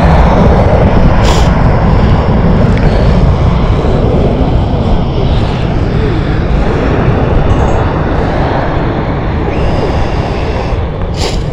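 Loud, close roar of an EasyJet airliner's jet engines at Stansted Airport, a sustained heavy rumble dominating throughout with a faint hiss above it.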